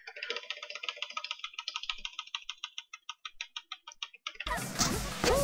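A computer keyboard clatters under quick, rhythmic keystrokes, a close run of crisp clicks at a steady pace that breaks off abruptly into a louder noisy burst near the end.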